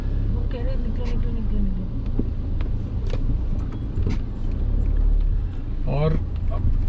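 A Mahindra XUV500 drives through waterlogged road with a steady low engine and road rumble, close and continuous; people talk briefly over it.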